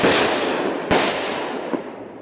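A Fourth of July fireworks shell fired from a backyard launcher: a loud whooshing burst of crackle, a sharp bang near the first second, then a smaller pop as the hiss trails off.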